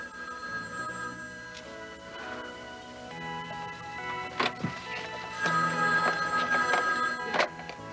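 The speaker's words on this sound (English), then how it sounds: "Will you answer that phone?" A telephone bell rings in a domestic scene from a children's TV show, a repeated ringing over faint background music and room noise, growing louder toward the end.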